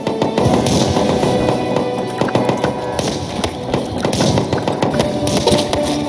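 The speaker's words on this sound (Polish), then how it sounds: "O kurczę, granat!" Dense, busy battle noise from the Total Tank Simulator game, with a grenade explosion among rapid cracks and thuds that keep going loudly without a pause.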